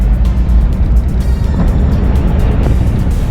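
A car driving, with a continuous loud low rumble of road and engine noise filling the cabin and small bumps and rattles throughout, no talk.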